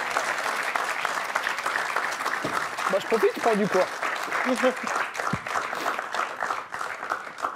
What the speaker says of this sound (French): Regardez, les gens debout qui vous applaudissent.